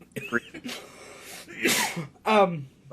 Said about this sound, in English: No, that was a cough.